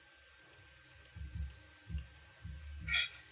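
A computer mouse clicks a few times, sharp faint ticks spaced apart over a quiet room with soft low rustling.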